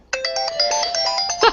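A telephone ringtone starts abruptly and plays loudly and steadily as a bright electronic warble of repeating notes, close to the microphone, with no one speaking over it.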